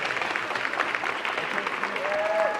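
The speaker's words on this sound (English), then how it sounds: "Clap it up, clap it up." Applause from an audience at a women's recognition event, a brief burst of many hands clapping at moderate distance, steady and slightly rising, with a faint voice or whoop near the end.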